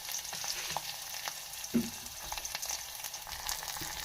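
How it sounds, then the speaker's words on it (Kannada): Onions fry in a pan while being stirred: a continuous close sizzle with scattered scraping stir strokes and one brief louder clatter, no voices. "ಸ್ವಲ್ಪ ಉಳ್ಳಾಗಡ್ಡಿ ಹಾಕಿ ಮಿಕ್ಸ್ ಮಾಡೋಣ ಉಳ್ಳಾಗಡ್ಡಿ ಸ್ವಲ್ಪ ಮೆತ್ತಗಾಗಲಿ"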